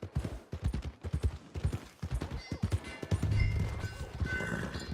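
Horse hooves clip-clop in a steady rhythm through the Red Dead Redemption 2 video game, trotting near the stables, with a faint neigh and some game ambience toward the end.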